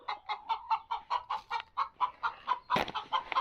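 Lavender Orpington chickens being offered black soldier fly larvae feed cluck close by in a steady, rapid run of short, evenly spaced calls, with one louder burst near the end.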